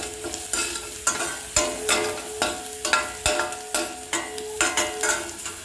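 Onions fry in a pan with fennel seeds and a bay leaf, sizzling steadily while a spoon scrapes and stirs in a regular rhythm of about two strokes per second, close and clear.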